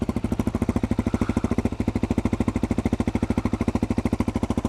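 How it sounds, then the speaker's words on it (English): A Suzuki DRZ250 dirt bike with an FMF Quiet Core exhaust insert idles steadily nearby, a fast, even, throbbing putter that holds the same rhythm throughout. "if you're sitting along a trail and it's idling like this, not bad."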